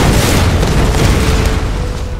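A loud, sustained explosion roars through the Tomb Raider (2013) video game, a dense rumbling blast that fills the moment with no voices.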